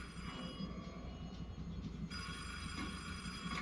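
An old telephone rings in a Ninjago cartoon episode, a faint, sustained bright trill that holds steady and briefly brightens partway through, set against a low, busy background rumble.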